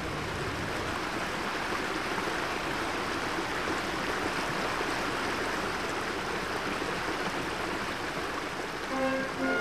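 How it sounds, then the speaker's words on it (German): Water released through opened sluices in the Bergpark Wilhelmshöhe cascades rushes down steadily, a loud, dense, unbroken roar of torrent and spray with no voices. "Zweimal wöchentlich werden hier die Schleusen geöffnet."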